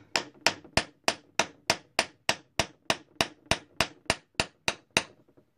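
A steady series of about sixteen sharp metallic hammer strikes on a wire ring, evenly spaced and close, each ringing briefly before the next blow.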